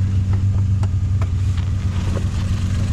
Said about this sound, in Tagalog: So ito yung makina natin. So yung makina natin is P6E engine, 660cc.